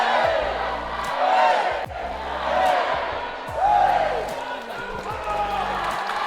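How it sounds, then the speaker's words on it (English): At the Dodgeball World Championships in Graz, Austria, the Austrian team chants in loud rhythmic group shouts that swell and fall in repeated waves, with cheering and crowd noise underneath. "letting you enjoy this chant and cheer from the Austrian team"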